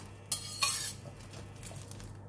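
Fresh chilli sauce ingredients dry roasting in a pan: two sharp clinks of a utensil against the pan followed by faint scraping and stirring over a quiet background hiss.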